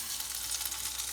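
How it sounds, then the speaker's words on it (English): Chicken skewers fry in a pan with a steady, close hiss and crackle of hot oil throughout the brief moment, with no voices. "Put the lid when you are frying."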